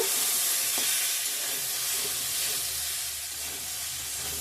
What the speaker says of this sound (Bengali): সুন্দর করে ভেজে নিয়েছি মশলার সঙ্গে জল অ্যাড করলাম